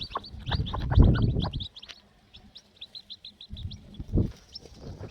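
Young Kadaknath chicks cheep in quick, high, repeated peeps close by, while bursts of louder, lower rustling and movement come and go around them.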